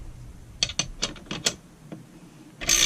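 Ratchet handle cranking down a nut and washer during a gearbox case assembly, a quick series of crisp close clicks followed by a brief louder mechanical rasp at the end.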